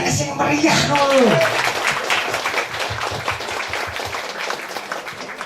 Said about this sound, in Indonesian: Tepuk tangan sing meriah lho.